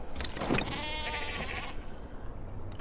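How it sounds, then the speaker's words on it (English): A sheep bleats in a survival video game, a short wavering cry standing out clearly near the start before fading into low background ambience. "So, I told you I found a sheep."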